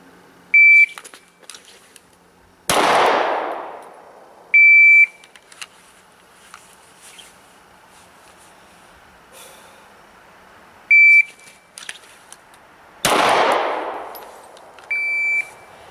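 A shot timer gives short, sharp electronic beeps in a pistol press-out drill, each followed a few seconds later by a loud pistol shot that rings out, with quiet pauses between repetitions.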